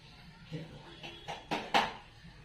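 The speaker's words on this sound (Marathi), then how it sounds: "त्याला तर आपण तेल ओतूया कढाई ठेवली" A kadhai set down on a home kitchen stove while cooking masala bhaat, a few light metallic clanks and knocks, the last one the loudest, close by and fairly quiet.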